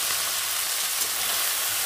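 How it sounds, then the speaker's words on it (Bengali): Shrimp fry in hot mustard oil in a pan with fried mustard, giving a loud, steady, close sizzling hiss with no pauses and no one talking. "তো চিংড়ি মাছটা আমি সুন্দর করে ভেজে নেব।"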